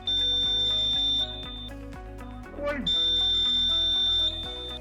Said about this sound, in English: The buzzer will blow on pressing any switch.